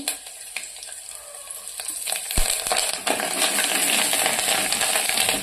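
Garlic and curry leaves fry in hot oil as a tempering for a sambar-style dish, giving a steady close sizzle with a sharp metallic clink partway through and stirring scrapes.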